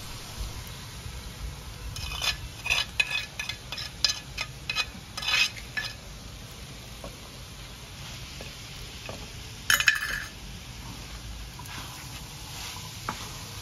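Chopped onion, tomato, green chili and ginger are stirred into mince on a tawa for keema with peas: a spoon scrapes and clatters in bursts over a faint, steady sizzle, with a sharper knock near the middle.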